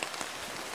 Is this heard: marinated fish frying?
no